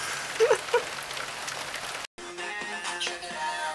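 Steady hiss and patter of rain falling on an outdoor bench for about two seconds, fairly soft and continuous, then the scene cuts to a quieter, different background.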